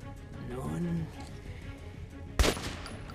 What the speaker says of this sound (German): Halt, Schuss!